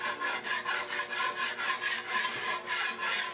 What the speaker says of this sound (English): I'm gonna take a spatula, because I can't find my brush, and I'm just gonna wipe off stuff.